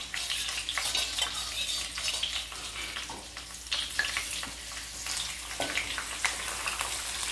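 Grated coconut sizzles and fries in a hot pan with coconut milk while a spoon stirs it, a steady crackling hiss broken by soft scraping strokes and an occasional clink against the pan.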